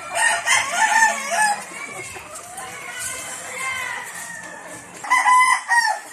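Gamefowl roosters crow repeatedly on a farm, several long calls overlapping at close and middle distance, with clucking between them and someone talking faintly in the background.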